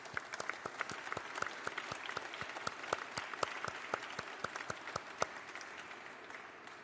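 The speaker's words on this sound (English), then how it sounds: "Let's give her a round of applause." A crowd at a San Francisco South Asian American Heritage Month celebration applauds, with steady overlapping claps that fade toward the end. The sound is fairly soft and comes from a room of people.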